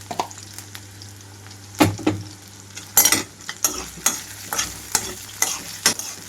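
Salted brinjal pieces frying in a pan over a medium flame, with a soft steady sizzle broken by several close, sharp spatula scrapes and stirring clatters at irregular intervals.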